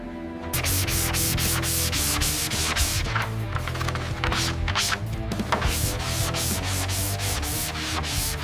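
Steady rhythmic sanding strokes rasp back and forth across filled and smoothed dents on the body of an old abandoned ambulance, loud and close, continuing without pause after a brief quiet start.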